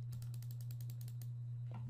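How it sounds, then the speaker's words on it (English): Computer keys pressed and clicked, about ten quick, evenly spaced light clicks, faint and close, over a constant low electrical hum, then a soft thump near the end. "that's me pushing keys there, clicking a few times"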